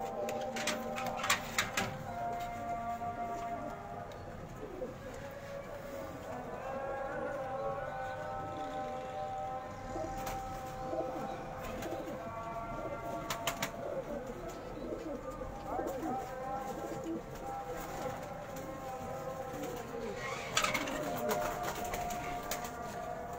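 Pigeons coo in a loft, soft repeated calls over a busy background with scattered clicks and knocks, while someone talks intermittently nearby.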